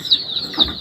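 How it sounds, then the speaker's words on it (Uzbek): Adler and Dalmatian breed chickens give two short, sharp clucks close by, one near the start and one just past the middle, with a low rustle between them. "Mana ko'rishinglar mumkin, o'sha yirik tovuq holatiga kelib qolgan."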